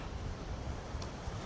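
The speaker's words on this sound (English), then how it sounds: "it's extremely windy" Strong wind gusting along the coast, a dense, steady roar buffeting the microphone with faint surf beneath, continuous and loud throughout with no voices.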